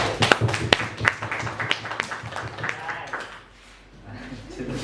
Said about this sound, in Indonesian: mari kita tepuk tangan semua.